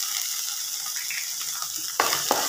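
Chilli powder is stirred into masala frying in a pan, a steady sizzle with soft scraping, then a louder clatter of the spoon near the end.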